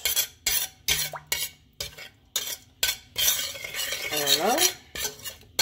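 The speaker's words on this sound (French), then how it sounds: "Maintenant, je vais mélanger. Je fais le mélange." A spoon stirs a seasoning mixture for sea bream in a bowl, a series of rhythmic clinking scrapes close by, broken by short pauses, with one brief spoken word.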